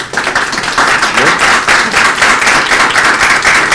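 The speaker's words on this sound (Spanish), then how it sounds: "Un aplauso les pido, por favor." A seated audience at an academic session on IFRIC 23 gives the speakers a round of applause, loud and continuous clapping from many hands with murmured voices underneath.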